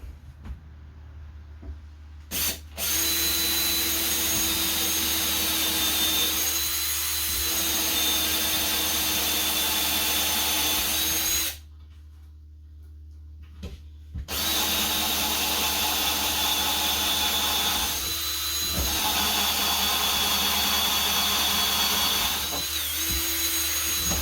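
A power drill bores starter holes in a countertop for a cabin sink cutout, loud whirring bursts with short pauses between them, including one longer silent gap before drilling resumes.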